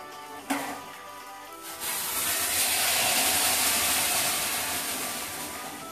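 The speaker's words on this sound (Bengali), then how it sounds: "বাসমতি রাইসটা ভাজা হয়ে গেছে, এবার এর উপর আমরা ফুটে আসা জলটা ঢেলে দেব।" Boiling water poured over fried basmati rice in a pan: a sharp splash, then a loud, sustained hissing rush of steam that swells and slowly fades, close and without talk.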